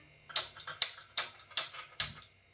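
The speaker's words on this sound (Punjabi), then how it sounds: "ਲਓ ਜੀ ਆਪਾਂ ਗੈਸ ਬਾਲਦੇ ਆ" The igniter of a gas stove clicks five times in an even rhythm, each sharp snap close and distinct, with no talking.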